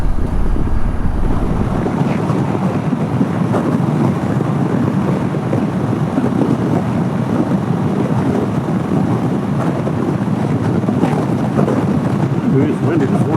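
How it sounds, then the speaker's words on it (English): Gusty outdoor wind roaring and buffeting a microphone before dawn near an airport, a loud, continuous rumble with shifting gusts and no pauses. "It's windy this morning."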